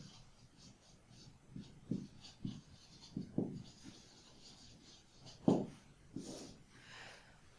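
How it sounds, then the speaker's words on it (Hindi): Marker or chalk writes on a board, giving short scratchy strokes in uneven bursts, up close, while someone speaks Hindi over part of it. "मैं यहां लिख देता हूं"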